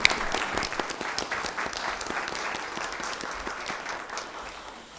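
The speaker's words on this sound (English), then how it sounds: "Be okay to clap now." A board meeting audience applauds an introduction of a new assistant superintendent, a steady patter of claps from a modest crowd that gradually tapers off.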